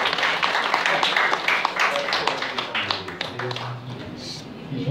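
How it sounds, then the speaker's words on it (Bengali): A run of quick hand claps, fairly near and uneven, fading out partway through, with a voice speaking over and after them. "আরে বাবা, হাততালি দেন,"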